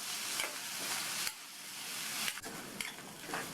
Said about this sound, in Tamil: இப்போ இந்த நெல்லிக்காய் நல்லா சாஃப்டாக வதங்கி வரட்டும்